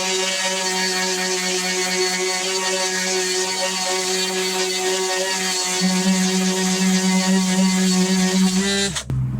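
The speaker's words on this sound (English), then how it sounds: "I'm just going to very quickly run the sander" A sander runs steadily on a motorcycle fuel tank for a classic cafe racer, taking dye off the metal surface with a continuous close buzzing whir that holds even for about nine seconds, then cuts off abruptly.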